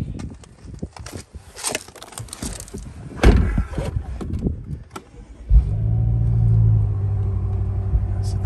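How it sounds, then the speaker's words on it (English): A 2013 BMW M6 4.4 BiTurbo convertible fires up after a few clicks and thumps inside the cabin, the engine catching with a loud burst then settling into a deep, steady idle rumble. "Start the car up for you."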